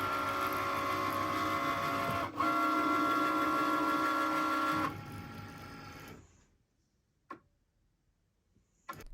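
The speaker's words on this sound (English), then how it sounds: "while your image is being cut on your Cricut" A Cricut cutting machine cutting heat transfer vinyl gives a steady mechanical whir with a tonal hum that runs for about six seconds and then stops, leaving near silence broken by a couple of faint clicks.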